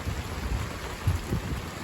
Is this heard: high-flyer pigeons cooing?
no